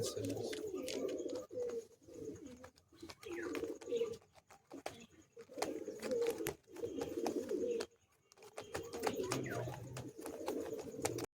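Madrasi pigeons coo in low, repeated bursts, close and fairly soft, with short gaps between the phrases and a little faint background noise.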